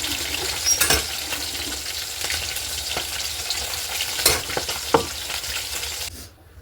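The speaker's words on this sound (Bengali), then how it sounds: "তেলটা গরম হয়ে গেছে, এখন মশলাটা দিয়ে দিলাম" Spice paste of ground cumin, green chillies and chopped onion hitting hot oil in a pan for a fish curry, giving a steady loud sizzle with several sharp crackling bursts and stirring scrapes before fading out.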